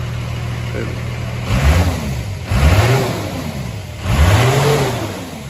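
An overhauled Toyota HJ61 with a turbo engine is revved up from a steady idle in three loud, close blips that each rise and fall in pitch, with the idle running between them.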